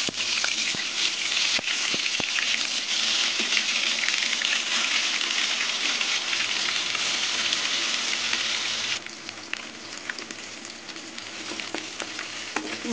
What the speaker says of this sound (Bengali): এই মাছগুলো তেলে ভেজে নেব।